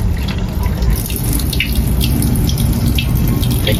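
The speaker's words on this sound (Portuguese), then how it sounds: "Mais uma fonte, mais uma água alcalina com outras propriedades medicinais." Alkaline mineral water flowing from a spring fountain in a park, a loud steady splashing stream close by with continuous rushing and dripping, no voices.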